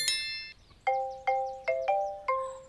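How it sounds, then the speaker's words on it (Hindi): A phone ringtone plays a short chime, then repeating electronic tones in a steady pattern, clear and moderately loud with no one speaking. "क्या बज रहा है फोन?"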